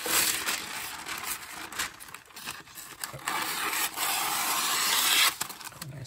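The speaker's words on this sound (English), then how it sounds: "I'm actually going to grab a new sheet of this. So here's my non-stick parchment." A sheet of non-stick parchment paper is handled close up, giving continuous crinkling and rustling with soft scrapes and crackles that swell toward the end.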